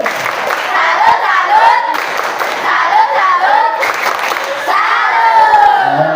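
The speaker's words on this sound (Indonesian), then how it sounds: "ayo sudah siap kita berikan tepuk salut untuk kakak-kakak dokter kita" A room of junior high students performs the tepuk salut clapping chant for visiting medical students, with loud, excited young voices shouting in unison and sharp claps mixed into the crowd noise from start to finish.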